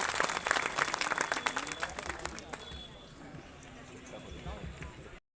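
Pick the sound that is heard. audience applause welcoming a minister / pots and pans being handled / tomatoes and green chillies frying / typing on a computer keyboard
audience applause welcoming a minister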